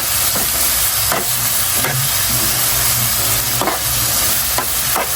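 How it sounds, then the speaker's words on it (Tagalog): Tomatoes being sautéed in a pan for sarsyadong pampano, a steady loud sizzle and hiss with repeated scraping stirs of a spatula across the pan, close up with no talk. "Gigisa din natin yan guys."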